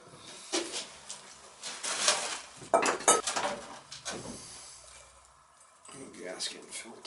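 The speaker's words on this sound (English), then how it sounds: "I run my screwdriver in there, kind of scrape any of the rust out." Metal screwdriver scraping rust out of a part on a leaking Utica boiler, giving a run of short, uneven metallic scrapes and clinks at close range, with a quieter pause near the end.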